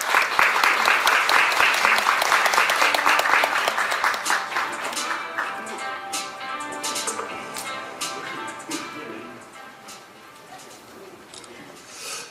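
A conference audience applauds as a company CTO is welcomed on stage. Loud, dense clapping opens, then thins and fades as scattered claps linger under quieter talk and room sound.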